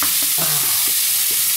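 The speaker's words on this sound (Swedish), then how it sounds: "När man hackar köttfärsen ordentligt" Minced meat sizzles steadily in a hot frying pan while a utensil scrapes, chops and stirs it in a few soft strokes, loud and close, with no talking.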